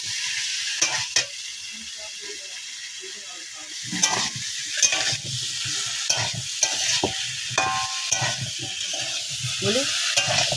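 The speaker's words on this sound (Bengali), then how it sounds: "এগুলো আলাদা আলাদা করে ভাজলেও হবে, কিন্তু আমরা এক মিনিট ভাজছি" Ingredients for a khichuri and spiced meat meal fry in a pan, a steady sizzle broken by scraping and clinking as a spoon stirs them in irregular strokes, with no talking.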